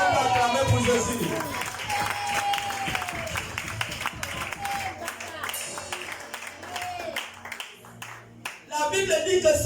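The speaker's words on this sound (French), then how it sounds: "On va acclamer pour Jésus." A church congregation claps and cheers for Jesus, with steady rhythmic clapping and voices rising throughout a service, loud and close with a brief lull near the end before the applause swells again.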